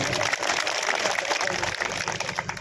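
Women applauding to welcome a guest at a village reception in Rohina, a dense, steady roar of clapping from a crowd that continues throughout without pause.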